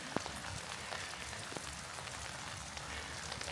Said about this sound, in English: this rain's starting to come down